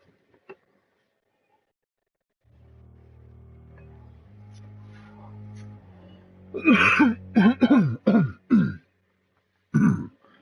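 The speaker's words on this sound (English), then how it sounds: "Excuse me for coughing a lot in my broadcast." Person with asthma coughing and clearing their throat during a live PS4 game stream: a string of harsh, close coughs in quick succession, then another cough after a pause, over a low droning game background hum.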